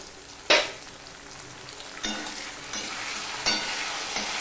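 Tomatoes sizzle in a hot pan for a hilsa fish curry with taro, a steady frying hiss broken by sharp bursts as the pieces are stirred, close and loud, with no voices.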